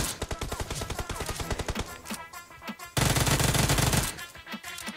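An UZI submachine gun fires in rapid bursts during a video game match, sharp stuttering volleys packed tightly together with brief pauses, loud and close, without speech.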